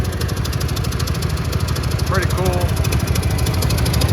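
A John Deere 17HR garden tractor engine runs with a steady, loud low drone throughout, while someone talks briefly over it.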